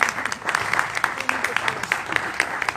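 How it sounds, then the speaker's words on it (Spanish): An audience claps at the end of a Spanish-language talk on the history of food in Cantabria, a brief burst of moderately loud clapping with talk mixed in. "Un aplauso"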